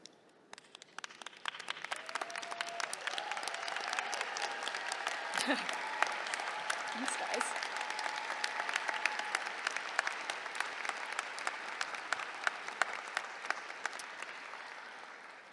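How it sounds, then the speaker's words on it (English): Audience at a UC Berkeley School of Public Health commencement ceremony at the Hearst Greek Theatre gives a long round of applause honoring staff and faculty, dense clapping swelling and holding with sharp individual claps and a brief voice thanking the crowd. "please join me in giving a huge round of applause to our staff, faculty, and professors for their dedication"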